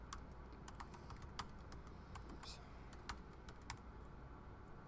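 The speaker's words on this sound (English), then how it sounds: "I knew I was going to hate typing on this keyboard." Quiet typing on a computer keyboard during CSS coding: scattered soft key clicks in short bursts, close but faint, with one brief spoken word.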